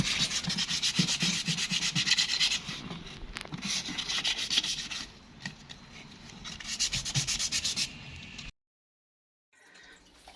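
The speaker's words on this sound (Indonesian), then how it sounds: "Di sini kita amplas terus sampai benar-benar halus." Repeated rhythmic rubbing strokes of fine sandpaper on forged carbon, close up, pausing briefly midway and falling silent near the end before resuming faintly.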